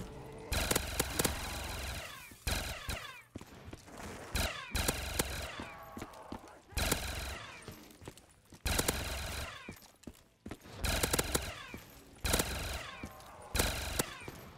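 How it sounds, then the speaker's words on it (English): M268 Obliterator minigun death machine firing in a Call of Duty zombies maze, long bursts of very rapid, loud, buzzing fire broken by short pauses, repeating across the stretch with zombie noise and occasional talk beneath. "We got the M268 Obliterator here as a death machine."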